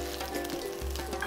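Chicken searing in a frying pan while cooking Moroccan escalope gives a steady, soft sizzle and hiss heard alone at low volume.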